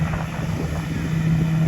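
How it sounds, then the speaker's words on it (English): A tractor-mounted blower clears the surfaces of a golf course under renovation, giving a steady, loud engine drone with a low hum and broad rushing air noise that swells slightly toward the end. "See the tractor mount blower now, really cleaning up the surfaces"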